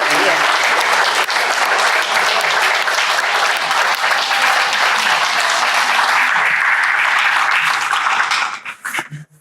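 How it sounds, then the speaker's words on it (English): Sustained, loud round of applause from a group of alumni at a legacy luncheon, steady clapping for about eight seconds before tapering off near the end. "ought to give him a round of applause for being the MVP"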